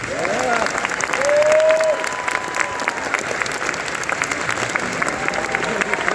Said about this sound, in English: how about a round of applause for this guy?